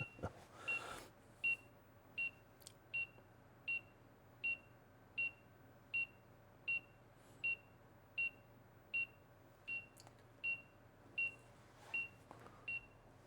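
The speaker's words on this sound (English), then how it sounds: "it's even beeping" A steady series of short, high electronic beeps repeats about every three-quarters of a second over a quiet hum, with a few fainter chirps mixed in.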